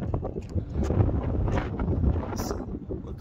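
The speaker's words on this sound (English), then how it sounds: "It's so windy out here, yo." Wind buffets the microphone in low rumbling gusts, with faint speech and some scattered knocks under the roar.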